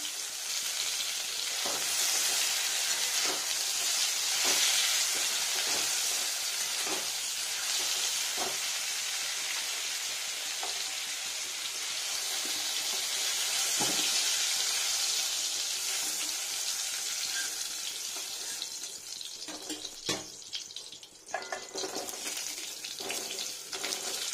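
Sliced ridge gourd frying in oil in a pan, a steady bright sizzle that runs throughout with occasional clinks and stirring sounds, close and fairly loud with no talk.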